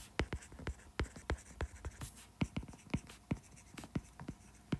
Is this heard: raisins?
no